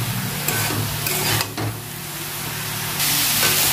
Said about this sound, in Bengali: ভালো করে নেড়ে ভেজে নেব।